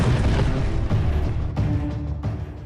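A deep, heavy booming blast rolls on for a few seconds, loud and sustained, with several surging thuds. It fits an Iranian missile strike on a military base in the Middle East.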